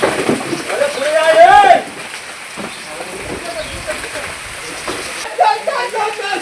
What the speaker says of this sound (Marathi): वारा पण बघा कसला सुटलाय जोरात एकदम. पाऊस पण आला जोरात एकदम.